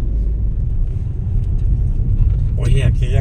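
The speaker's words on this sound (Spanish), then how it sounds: "ahí viene más carro, mira" A car on a rural road north of Mazatlán produces a loud, continuous low rumble of engine and road noise throughout, with people talking over it near the end.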